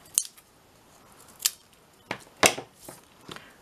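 Scissors snipping excess bits off paper stickers during a crafting session, four or five crisp close cuts spaced irregularly over quiet background.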